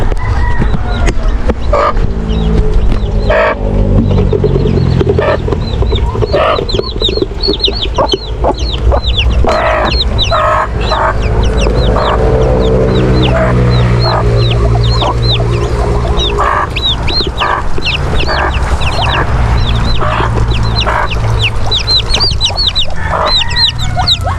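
A hen and her chicks on a farm near a small fishpond cluck and peep constantly, with dense overlapping chirps and clucks filling the whole span at close range.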